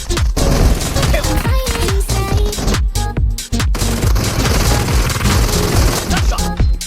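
Rapid, dense gunfire from the mobile game BGMI, a loud continuous fusillade of overlapping shots and bursts with barely any pause, close and aggressive throughout.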